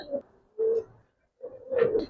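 A female Giribaz pigeon of silver khaki colouring coos close up in three short throaty bursts with brief pauses between them, the last one longest.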